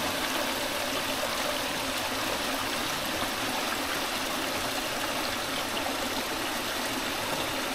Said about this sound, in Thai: ด้านบนเนี่ยจะมีน้ำตกนะครับเล็กๆไหลนะครับผม